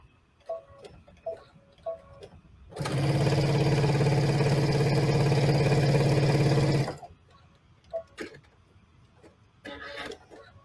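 A sewing machine stitching down the side of a fabric cube, a steady loud motor whir with rhythmic needle clatter running about four seconds alone, bracketed by faint handling clicks and taps.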